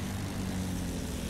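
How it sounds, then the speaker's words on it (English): Enemy plane passing overhead in Battlefield 1, a steady droning propeller engine with a low, even hum that holds level throughout. "Enemy plane in sight!"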